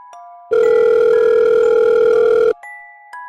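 A loud, steady telephone dial tone holds for about two seconds, framed by quieter electronic tones before and after.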